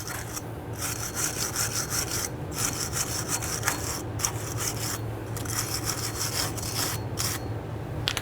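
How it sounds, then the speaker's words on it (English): Rust is scrubbed off the wheel hub face of a 2011-2017 Nissan Quest, a close, steady rasping back-and-forth rhythm of strokes that runs without pause. "Let's go ahead and clean our hub face. You want to make sure that there's no rust buildup around the flange at all."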